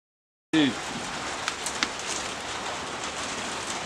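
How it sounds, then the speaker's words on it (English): Steady rain patters outdoors, starting abruptly and continuing as a dense, even hiss with a few sharper drip ticks near the start. "Dude, it's starting to rain."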